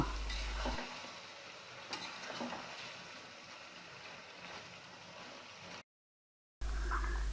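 Beef and mutton achari meat being stirred in a pot, a soft continuous scraping and gentle sizzle close by, with a brief pause before the stirring resumes.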